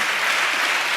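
A church congregation at Emmanuel Ministries in Hyderabad claps in praise, giving a brief burst of thick, continuous clapping that is close and loud.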